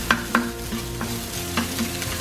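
Garlic rice frying in a pan and being stirred, with a steady close sizzle broken by a few sharp scrapes and clinks of the utensil against the pan; a low tonal hum continues underneath.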